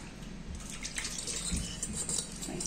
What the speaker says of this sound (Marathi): पाणी नुसतं त्याच्यावर टाकते तरी एकदम स्वच्छ होते।